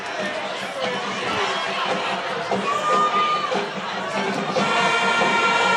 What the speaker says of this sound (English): The Penn Hill student section out rooting on the Indians.